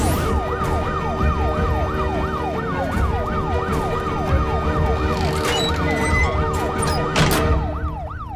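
An ambulance siren wails in a rapid, repeating rising-and-falling cycle, loud and close, over a low hum of road traffic, continuing steadily before easing slightly at the end.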